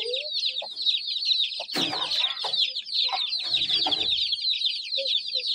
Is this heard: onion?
no